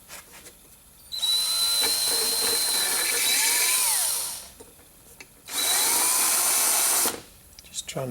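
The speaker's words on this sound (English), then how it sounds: "Just trying to dress the burrs from the drilling operation there." Two loud bursts of a high-pitched power tool whining through metal while deburring a drilled hole on a Volkswagen Tiguan, each a couple of seconds long, close up, with quiet gaps between.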